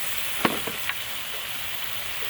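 Drumstick pods and potatoes fry in spice paste, giving a steady sizzling hiss broken by a few quick stirring knocks early on.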